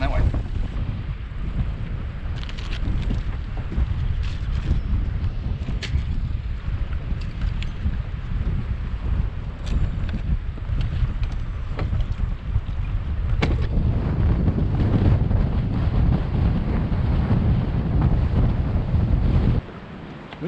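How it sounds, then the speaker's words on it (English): Strong wind roars steadily across a lake during boat fishing on Lake of the Woods, buffeting the microphone for the whole stretch, with water lapping and the boat faintly underneath before it eases off at the end. "Wind's going to be a battle, but we'll get in around the corner and we should be out of the wind."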